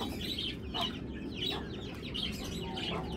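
Two ducks shut in a cage keep up a run of close, repeated clucking calls over steady background noise, with no voices.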